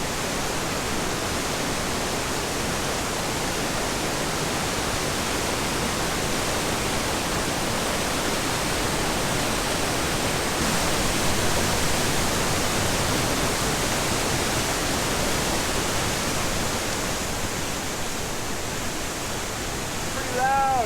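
Roaring waterfall in Jasper National Park, a loud, unbroken wall of rushing water that stays steady for the whole stretch, with no clear voices over it.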